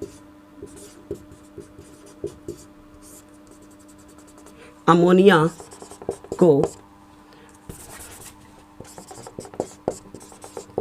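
Steady scratchy writing strokes on a surface during a Hindi-language Class 10 biology lesson on the liver, continuing through most of the stretch, briefly interrupted by a teacher's voice in the middle.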